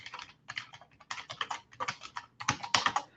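Fast typing on a computer keyboard at a desk, close and fairly quiet: irregular bursts of crisp key clicks in quick clusters with short pauses between them, no voices.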